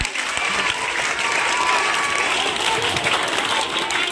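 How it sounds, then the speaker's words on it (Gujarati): Schoolchildren clap loudly and steadily for a boy at a school magic show in Banaskantha, a dense, continuous burst of applause from a crowd filling the room. "વિરમ માટે જોરદાર તાળીઓ"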